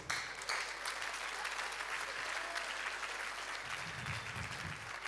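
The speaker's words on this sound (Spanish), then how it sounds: "démosle un aplauso aquí a mi amigo" Church congregation applauding a guest at a Spanish-language service, a continuous roomful of clapping held at an even level, with a low voice entering faintly near the end.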